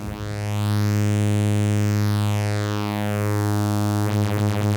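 A steady buzzy sawtooth synthesizer tone sweeps through a slow phaser swirl, the whooshing notches rising and falling, before a faster warbling flutter at the end.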